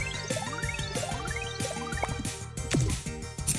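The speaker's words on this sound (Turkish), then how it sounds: "Kabarcık damlası geliyor yine." A bubble drop water attack in the video game Sea of Stars, a series of rising watery blips, drips and squishy pops in quick succession with game music underneath.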